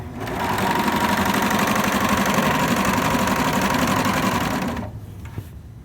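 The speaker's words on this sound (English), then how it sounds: "Make sure that you're watching the edge of the fabric as it beads through the machine" A sewing machine stitches fabric for a drawstring backpack, its steady rapid mechanical whirr running loud and close for about five seconds before stopping abruptly.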